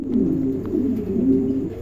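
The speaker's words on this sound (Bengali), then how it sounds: "এখানে এক জোড়া কবুতর আছে" A pair of pigeons coo softly and continuously up close, a low rolling murmur with a couple of faint chirps above it.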